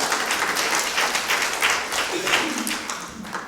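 Audience applause with some cheering fills a hall at a Bone Cancer Research event, steady and dense throughout with no clear speech over it.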